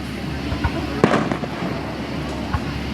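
Fireworks go off in an outdoor display, a sharp burst near the middle followed by a few fainter pops and crackles over a steady background rumble.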